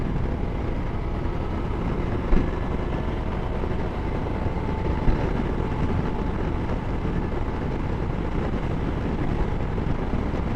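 Loud motorcycles ride at Biketoberfest, a continuous heavy roar of engines blended with strong wind rush, close and steady throughout, with no talking.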